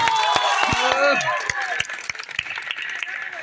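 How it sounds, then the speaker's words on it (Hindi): An audience claps for children at a junior quiz competition held by a Durga Puja samiti, steady claps rippling through the room while voices talk over them. "इन बच्चों के लिए एक बार जोरदार ताली"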